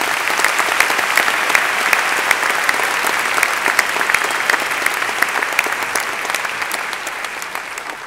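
Hall audience at a Long Beach State of the City address breaks into steady, enthusiastic applause, dense clapping sustained evenly for several seconds with a few sharper individual claps standing out.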